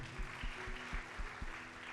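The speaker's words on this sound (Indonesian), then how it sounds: "Kasih tepuk tangan saudara." Audience applause at a church worship service, a steady wash of clapping with regular low thumps running through the whole stretch at moderate level.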